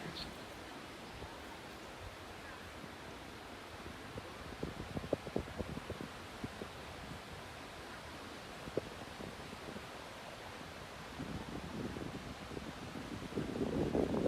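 Sea wind blows steadily at the coast at Laem Mae Phrim, a continuous broadband rush that builds louder toward the end, with a voice speaking faintly in the background.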